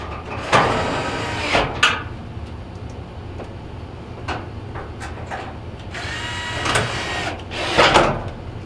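Screws being reinstalled by hand in a Whirlpool dryer cabinet, fastening two 5/16 screws that join the cabinet to the front panel: scattered clicks, scrapes and metallic knocks in short irregular bursts, close by, with no talking.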